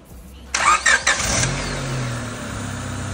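A rebuilt car engine cranks with a few quick starter bursts, catches, and settles into a steady, loud, close idle that runs to the end.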